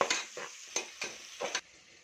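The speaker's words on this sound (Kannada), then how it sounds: "ಈರುಳ್ಳಿ ಹಾಕ್ತಾಯಿದ್ದೀನಿ. 2 ಈರುಳ್ಳಿ ತೊಗೊಂಡಿದ್ದೀನಿ. ನೋಡಿ, ರೋಸ್ಟ್ ಮಾಡ್ತಾಯಿದ್ದೀನಿ." Two onions roast in a pan while a spoon stirs them in quick strokes, each push bringing a burst of sizzle and scrape, about five strokes before the sizzle drops to a faint hiss.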